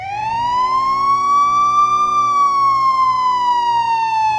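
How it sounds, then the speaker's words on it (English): A break-in alarm siren wails loud and close in one long rising and slowly falling tone, sounding alone with no voices. "That's the alarm! Someone's broken in!"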